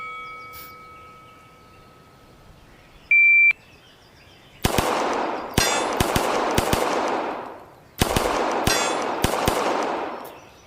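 Gunfire at a shooting practice range, where a beep signals the start. Rapid sharp shots follow, in paired and quick bursts, some ringing off metal targets, in two separate strings, close and loud, with no talk.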